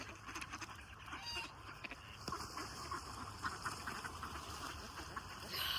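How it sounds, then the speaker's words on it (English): Ducks squabbling and fighting at the water's edge, quiet quacking and scuffling sounds scattered over steady outdoor background noise, growing slightly louder at the end. "don't notice the duck on duck violence, okay?"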